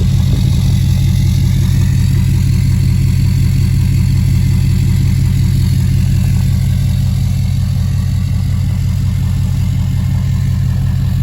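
A 2019 Ford F250 with the 6.7 Powerstroke diesel and a 4-inch exhaust with a 5-inch tip idles nearby, a loud, steady low rumble with a fine, even diesel clatter and no revving.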